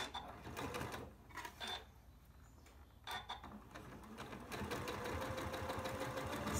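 Home sewing machine stitching small quilt scraps into a crumb quilt block, a steady mechanical whirring run in short bursts with brief pauses, close and fairly quiet.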